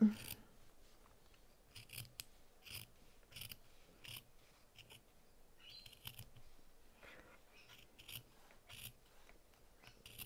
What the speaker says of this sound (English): So now I'm going to trim that seam.